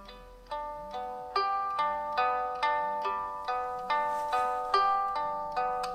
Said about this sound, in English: The alarm works great and it sounds great too.